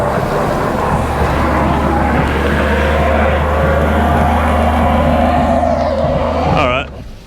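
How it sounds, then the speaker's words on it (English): Hyundai Kona with HTRAC straining on an off-road hill test, its engine revving hard and steady while the back tire spins, loud and close, then cutting off near the end with a brief squeal. "Is that back tire spinning? it is."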